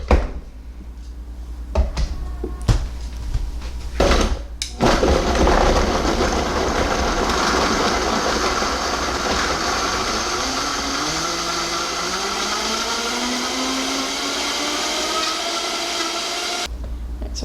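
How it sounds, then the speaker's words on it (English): A kitchen blender whizzes up a sauce with soy sauce and onion for a Japanese steakhouse salmon bowl, starting after a few clunks and rising into a loud, steady whirr whose pitch climbs as the mixture smooths out, then stops abruptly. "we'll bring the blender over here and just whiz it up"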